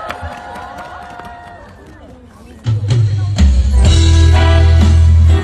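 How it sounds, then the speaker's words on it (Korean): Audience at an army festival breaking into loud applause and cheering as a performer is welcomed to the stage, rising abruptly after quieter murmuring and continuing strongly to the end. "큰 박수 부탁드립니다."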